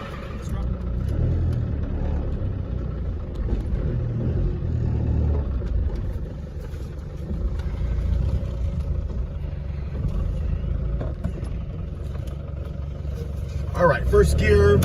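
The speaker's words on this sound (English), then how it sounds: "There will be a poof of smoke when we crank this up. That's pretty typical for diesels." A 1990 Range Rover Classic diesel engine rumbles at idle after cranking, a steady low running drone close by, with a voice talking over it and a brief louder rise near the end.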